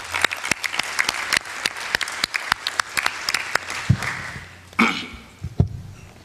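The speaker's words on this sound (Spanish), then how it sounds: "Por favor, brindémosle un aplauso a Jordi por su participación." Audience applause at a public policy forum, a run of separate sharp claps spaced through the first four seconds, fading to a few scattered claps near the end.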